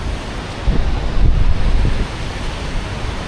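Sea waves wash onto the shore along a seafront promenade in Vietnam on a sunny, warm day, a steady broadband roar swelling slightly in the middle, mixed with wind buffeting the microphone.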